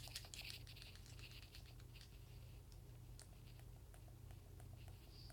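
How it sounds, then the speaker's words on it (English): PS4 controller buttons clicking during PUBG play, quiet rapid taps and clicks scattered irregularly over a low steady hum, close and faint with no talk. "When I'm leaning, you can hear the clicking."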